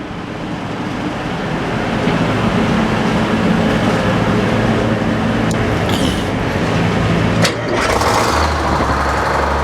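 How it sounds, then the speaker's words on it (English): A sawmill engine at an old sawmill turns over and catches, building into a loud, steady, close rumble that runs on with a few sharp clunks partway through. "Now let's start the other engine."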